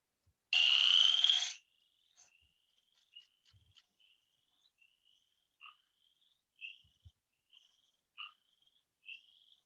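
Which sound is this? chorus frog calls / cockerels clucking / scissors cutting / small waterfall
chorus frog calls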